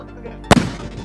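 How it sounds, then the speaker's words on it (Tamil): A Joker brand aerial firecracker, a multi-shot fancy tin that fires up and bursts overhead, gives one sharp loud bang halfway through with a quick second pop and a crackling tail over faint background noise. "ஜோக்கர் பிராண்ட்ல இருந்து 4-5 ஃபேன்சி மேல டின்ல இருக்கும், உள்ள வந்து ஃபேன்சி இருக்கும், மேல போய் வெடிக்கிறது."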